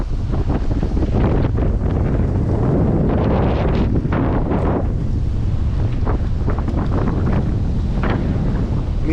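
A strong meltemi wind roars over a sailboat in the Aegean Sea, buffeting the microphone in loud, continuous gusts mixed with rushing water and rigging noise, with no talk.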